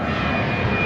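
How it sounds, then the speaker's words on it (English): Fixed-wing airplane flying overhead, a loud, steady engine roar filling the whole stretch with no break and no voices. "I'll wait for the plane to go by"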